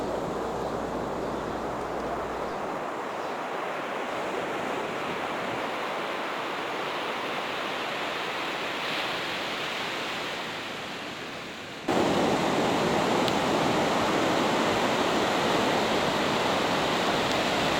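Surf on the beach at Paramore rolls in as a steady broadband wash, growing louder and closer partway through, with no voices.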